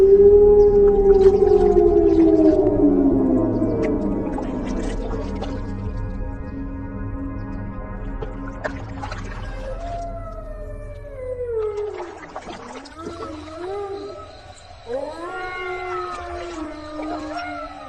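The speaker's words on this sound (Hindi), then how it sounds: "ये सियार कितनी डरावनी आवाज में चिल्ला रहे हैं।" Jackals howling at night near a cremation ground: long rising and falling wails that swoop and overlap, strong at first then several fainter cries joining later, over a constant low background rumble.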